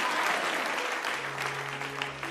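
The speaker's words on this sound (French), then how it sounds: "Applaudissez pour le Seigneur." A church congregation applauds for the Lord, a short burst of steady mid-level clapping from many hands with a faint sustained tone beneath it and no clear speech.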